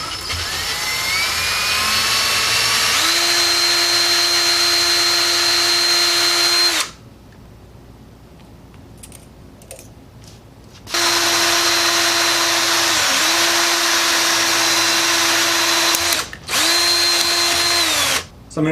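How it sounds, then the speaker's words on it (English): A power drill with a 3/8 inch bit bores through the air restrictor of a clamped Nerf Fortnite SP-L pistol, a loud sustained whine in two long runs separated by a pause with faint handling noises. "For the air restrictor, I'm going to be taking a 3/8 inch drill bit, just using it from the backside with a clamp and a drill"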